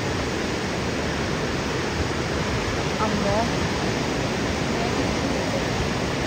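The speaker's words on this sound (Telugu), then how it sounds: "ఎంత ఫ్లో ఉందో వాటర్." Water at Niagara Falls along the White Water Walk in Canada thunders as a steady, loud, unbroken roar filling the whole clip, with a voice briefly exclaiming over it.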